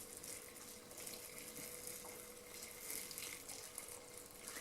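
Tap water runs in a steady, close gush into a multicooker pot while cabbage soup is being made, continuous with no breaks and no voices.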